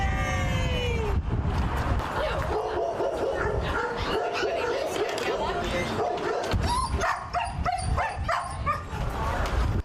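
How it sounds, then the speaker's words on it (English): Rescued evacuee dogs coming off a bus yip, bark and whimper excitedly in a busy, crowded outdoor scene, with continuous overlapping canine cries and people talking underneath. "There'll probably be a lot of barking, a lot of crying, excitement of the dogs coming off."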